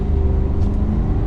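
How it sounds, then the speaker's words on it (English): A 2022 Jeep Grand Wagoneer Series III, a heavy SUV of over 6,000 pounds, pulls away under gentle throttle, its steady low engine hum and road rumble continuous and close throughout. "Now let's give it a little bit of gas."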